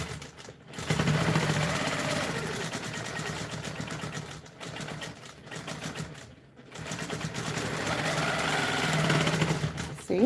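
Sewing machine stitching a free-motion teardrop quilting pattern on a custom quilt, a close, steady mechanical whir that runs continuously with two brief pauses, with no talk over it.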